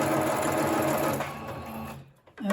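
A sewing machine runs steadily, stitching through a craft project with a dense mechanical whir that slows and stops near the end, followed by a brief squeak.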